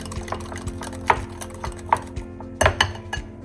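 A spoon stirs red chilli, coriander-cumin powder, turmeric and garam masala into a paneer sabji, giving scattered close clinks and scrapes against the pan over a faint background hum.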